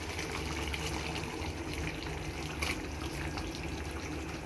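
Ground coconut paste and water poured into a pot of Tamil-style chicken curry, a steady, close wash of flowing liquid that keeps up throughout with no voices.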